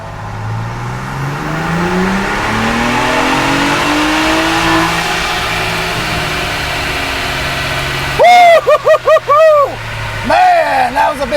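A tuned Ford Bronco 2.7L engine on a dyno pull, loud and close, rising steadily through the revs in one long sweep, then cutting off into a few sharp blips and rev stabs.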